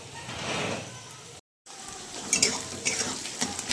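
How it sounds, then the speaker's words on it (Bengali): Onions fry in a pan of oil spiced with cloves, cardamom, nutmeg and mace. A broad hiss fills the first part, breaks off briefly, then returns with light metallic clinks of stirring. "তারপর পেঁয়াজটা একটু ভাজা হোক"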